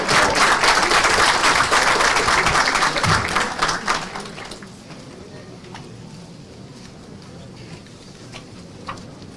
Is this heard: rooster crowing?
no